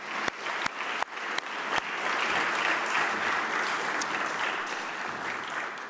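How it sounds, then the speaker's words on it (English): A few sharp claps start off, then a conference audience at the Budapest Global Dialogue 2025 breaks into steady, sustained applause that fills the room and holds without fading. "Please join me in applauding them for their wonderful hospitality."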